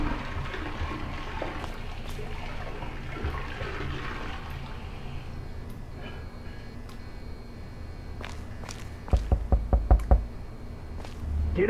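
A series of knocks on a door in the video game Road 96, about five quick raps coming in a burst near the end, over a steady background of running water or a flushing toilet.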